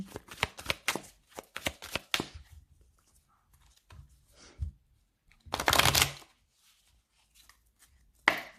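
Rider-Waite tarot cards are shuffled by hand in quick, crisp riffling bursts with short pauses between them, then comes one longer, louder flurry of card noise and a final sharp tap, all close and without talking.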